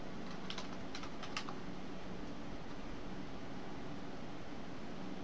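Several quick keystrokes on a computer keyboard enter a password while setting up an encrypted drive. They come close together near the start, then only steady low background noise remains.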